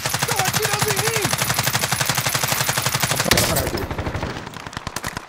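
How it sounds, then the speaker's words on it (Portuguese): Rapid automatic gunfire from an AN-94 rifle in Call of Duty, a loud, close, sustained stream of evenly spaced shots that continues almost without pause, with a brief heavier blast midway. "Estão atirando em mim!"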